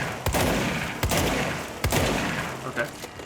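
Gunfire from a weapon in the video game Control, several sharp shots in quick succession at an uneven rhythm, loud and close, with game ambience filling the gaps between reports.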